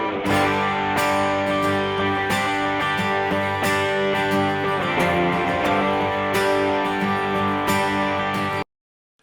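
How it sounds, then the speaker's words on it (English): One acoustic and two electric guitars, hard panned in stereo, strum together in a steady rhythm, loud and full, then stop abruptly. "I have an acoustic guitar here and 2 electric guitars."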